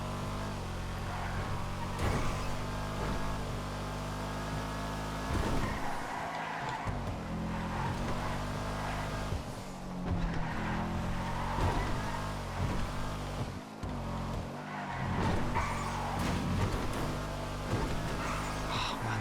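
A Calico tuner car engine roars through a race lap in GTA FiveM, a loud, continuous revving drone with repeated gear shifts and intermittent tire squeal and skidding.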